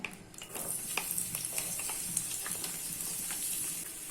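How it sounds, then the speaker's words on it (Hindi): Finely chopped onion hits about four spoons of hot oil in a pan for a chicken fry, crackling and sizzling steadily while a utensil stirs and scrapes through it, close and fairly loud. "अभी इसमें फाइनली चॉप किया हुआ ऑनियन ऐड कर लेना है"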